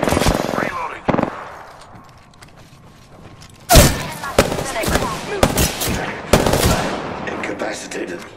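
Gunfire in the Apex Legends video game comes in loud, sharp bursts with mechanical clanks and creaks between them, close and punchy, with quieter stretches between volleys.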